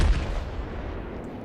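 A naval artillery shot booms in the video game World of Warships, a single deep low rumble that decays over about a second with no talk.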